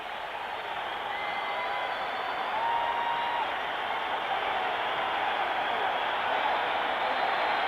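Vast arena crowd applauding a boxer's entrance before a Marvin Hagler fight, a dense continuous wash of clapping and crowd roar, steady and loud throughout without clear talk.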